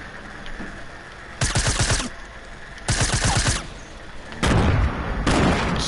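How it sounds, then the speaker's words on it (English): Bursts of rapid video-game gunfire and blasts in a shooter match, three loud crackling volleys about a second long each, separated by short pauses, with no voices over them. "All I heard was a huge explosion."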